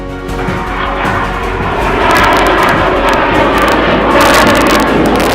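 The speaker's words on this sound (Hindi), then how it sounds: "फाइटर हेलिकॉप्टर रु नहीं युद्ध जहाजंक उड़ाण।" Military aircraft fly overhead during a full-dress air force rehearsal at an air base, a loud, steady engine roar that swells and holds for several seconds with no voices.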